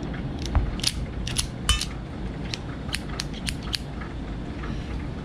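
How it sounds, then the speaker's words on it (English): Pistol slide racked to eject snap caps: a quick series of sharp metallic clicks and clacks at close range, irregularly spaced, with no talking. "we're just going to pull the slide and eject them and see how it goes"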